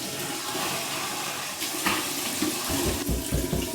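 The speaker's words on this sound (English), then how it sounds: "Here comes my warm water rinse." A bathroom sink tap runs warm water for a rinse after shaving with shave butter, a steady close rush with splashing and gurgles as hands scoop water near the end.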